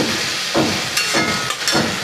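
Red amaranth stems frying in a pan, a steady loud sizzle with a few brief stirring scrapes at roughly regular intervals.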